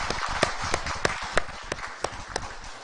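A church congregation claps during a Sunday worship service, a loose, uneven run of about ten distinct claps spaced across a few seconds, moderately close with no talking over them.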